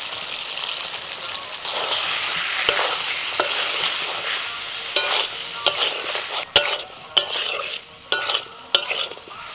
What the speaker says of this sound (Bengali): মশলার সাথে সব কিছু আরো মিনিট পাঁচে কষিয়ে নিয়েছি